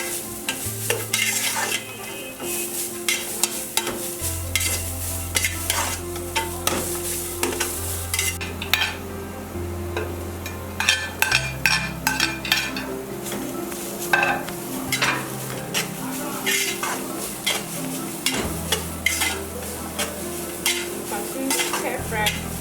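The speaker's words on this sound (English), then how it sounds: "Continue to stir fry." Small chops stir-fry in a hot pan, with steady sizzling and frying running throughout. Repeated clatters of a spatula scraping and tossing the pieces sound loud and close, with no talk.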